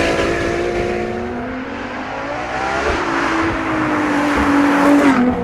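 A Ferrari LaFerrari sliding around Fiorano circuit, its engine howling loud and close with rising and falling revs and tire squeal as the car drifts through a corner.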